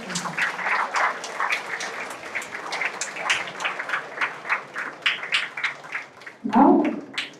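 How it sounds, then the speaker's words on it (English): Audience at a placement brochure and magazine release ceremony applauding, a run of fairly close, uneven claps over several seconds, with a louder thump near the end. "Everyone give a big applause for this our"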